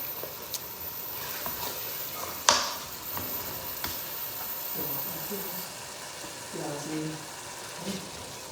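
Fenugreek leaves cook with potato in a pan over low heat, making a soft, continuous sizzle with stirring scrapes and one sharp utensil clank, while a voice talks faintly in the background.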